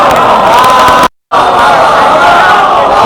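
A dense majlis crowd shouts slogans loudly in unison, a sustained roar of many voices cut by a brief moment of silence before the chanting resumes at full strength.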